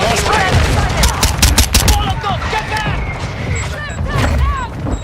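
Dense, loud gunfire crackles through a video game firefight at a hard point, bursts of rapid shots overlapping and repeating close by, with voices talking over the shooting throughout.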